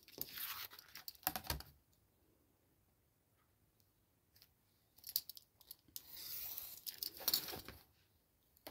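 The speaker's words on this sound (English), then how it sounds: "I'm going to cut those edges off." Scissors snipping the edges off a sheet of paper, close and crisp, with a few quick cuts at the start and another cluster of snips later, separated by a quiet pause.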